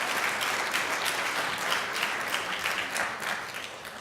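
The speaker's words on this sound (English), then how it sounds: "So give yourselves a round of applause." Sustained applause from a large audience of advocates gathered at a Washington, D.C. event, dense and even clapping that fades slightly toward the end, with no talk over it.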